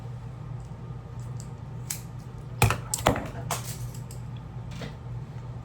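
Scissors snipping through knotless braids, a few sharp cuts at close range in a quiet room with a steady low hum behind them.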